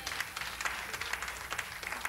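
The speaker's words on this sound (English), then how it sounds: "Clap your hands to the Lord." Hands clap in a church congregation during a Pentecostal service, with quick, uneven claps that come close together and stay fairly faint and steady, with no voices on top.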